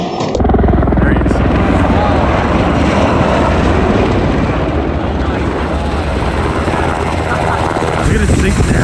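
A helicopter flies nearby over snowy ground, its loud, steady rotor and engine roar filling the whole stretch and drowning out the surroundings.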